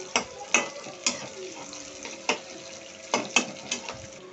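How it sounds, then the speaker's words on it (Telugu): Onions frying in oil in a home kitchen pan for cauliflower gravy, a soft steady sizzle broken by repeated sharp clinks and scrapes of stirring, no talk. "ఆనియన్ బాగా ఫ్రై అవ్వాలి ఆయిల్లోనే."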